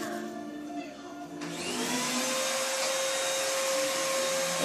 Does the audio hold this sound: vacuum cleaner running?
yes